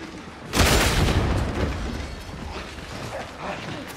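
A single heavy grenade explosion booms out in a Warhammer video game, followed by a rolling rumble and scattered battle noise that slowly fades under a steady background din.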